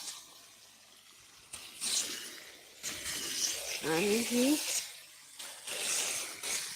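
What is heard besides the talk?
irrigation water flowing in a field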